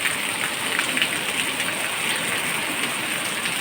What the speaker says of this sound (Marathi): चोहीकडे पाऊसच पाऊस,